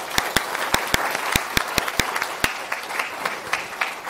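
Audience applause after a conference talk on privacy technology, many hands clapping in a steady patter with sharp, close individual claps standing out, no voices over it.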